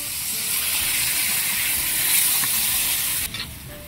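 Marinated pork and chicken hit a hot pan and sizzle loudly in a continuous hiss, with a brief stir or shift of the meat near the end before the frying settles slightly quieter.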